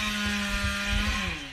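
A chainsaw runs steadily near a backyard rabbit and chicken coop build, a continuous buzzing drone with a strong engine tone that dips slightly in pitch toward the end.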